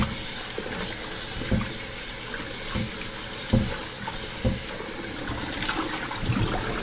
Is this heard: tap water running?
yes